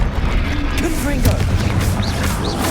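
A Confringo fire spell bursts in Hogwarts Legacy combat, a dense, loud blast of booming, crackling noise that fills the whole moment, with a shouted voice and other spell effects mixed in.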